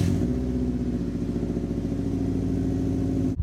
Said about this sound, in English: I'm just gonna give you guys a quick couple of revs down the street,